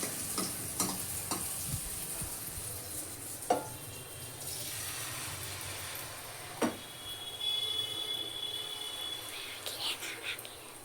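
Handvo batter sizzles softly in hot oil in a kadai, a steady faint crackling hiss broken by occasional sharp clicks and taps from a spoon.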